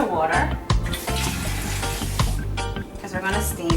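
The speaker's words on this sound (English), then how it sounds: "We want to just add a little bit of water" Water pours into a hot pan to steam peeled, deveined extra-large shrimp for jerk shrimp, hissing and sizzling loudly with a continuous rushing splash and sharp crackles throughout.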